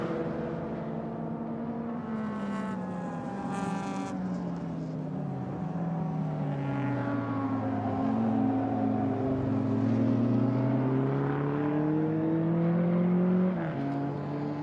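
A race car engine screams and revs at the Hungaroring, rising and falling in pitch through gear changes as it drives hard through the last corner. Loud and continuous, with no talking.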